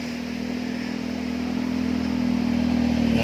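A motorcycle used to ferry visitors near the Curug Bangkong waterfall runs with a steady mid-pitched engine drone that grows gradually louder as it approaches.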